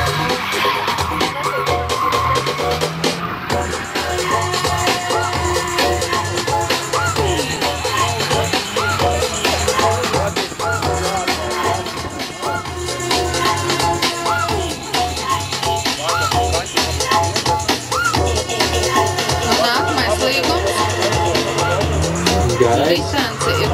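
Subaru and Nissan drift cars at a Latvian drift series event, engines howling at high revs with repeated rising-and-falling sweeps and tire screech, heard under continuous commentary.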